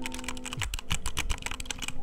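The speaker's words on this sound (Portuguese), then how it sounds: "som de teclado, caso o seu teclado não faça barulhinho igual o meu" A clicky mechanical computer keyboard being typed on up close, rapid uneven bursts of sharp key clacks with brief pauses, alone without talk.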